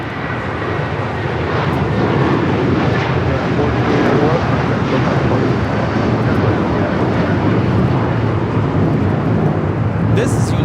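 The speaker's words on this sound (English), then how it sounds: "This is United Airlines 1431 taking off to Honolulu on the 757-300." A United Airlines Boeing 757-300 departs LAX for Honolulu, a steady broadband jet roar that holds loud and near throughout, with a voice briefly heard over the engine noise.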